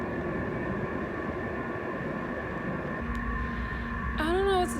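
Station ambience around a silver passenger train, with a steady rumbling hum and tonal whine, then a lower engine drone and a rising squeal near the end, heard alongside faint background chatter.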